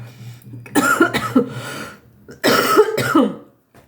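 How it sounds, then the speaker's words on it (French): Two harsh, close-up coughs, each a short burst of rough hacking, separated by a brief pause. "Décidément, des gens, ça me fait tousser."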